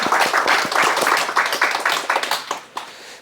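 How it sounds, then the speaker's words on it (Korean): An audience claps to welcome two guests, a mother and her daughter, at a breast cancer survivor interview. The applause is dense, steady and fairly close, then thins out and fades near the end. "두 분에게 좀 박수로 환영 좀 부탁드리겠습니다"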